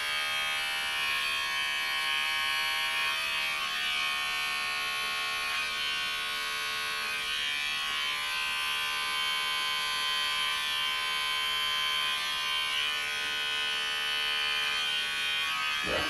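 Electric hair clippers fitted with a number 3 guard trim a beard, giving a steady, close, continuous buzzing hum that holds evenly for about sixteen seconds with no talking.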